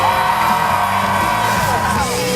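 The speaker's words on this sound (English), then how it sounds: "Can you guys keep screaming, or are you guys gonna get tired of this?" A crowd at a motocross trick show screams and cheers in one loud, sustained roar, with whoops and yells rising out of the wash of noise.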